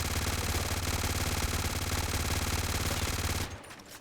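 Automatic Uzi fire from GTA 5: a loud, dense, continuous burst of rapid gunshots that runs for about three and a half seconds, then cuts off abruptly into a quieter tail.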